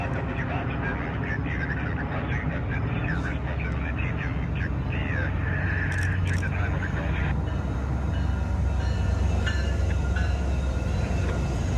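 Trains racing side by side on the rails in Montreal, a continuous rumbling roll with steel wheel squeal and screeching rising in the middle, heard from trackside over a steady low drone.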